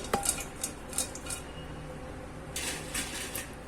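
Crispy fried sweet potato wafers rattle and clink lightly against a metal utensil in short, quiet bursts, with pauses between.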